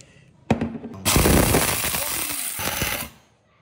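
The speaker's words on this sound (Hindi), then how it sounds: "भैया ये है वो ग्राइंडर मशीन जो उसे भाई लोहे को भी पिघला रही थी, इसको डालेंगे और इसका बनाएंगे पाउडर" A powerful grinder machine grinding iron into powder bursts into a loud, harsh rattling roar for about two seconds after a sharp clattering start, then stops abruptly.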